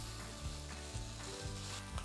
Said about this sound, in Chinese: 這個鮭魚要下去煎之前，水分一定要擦乾，不用再切了，整塊直接下去煎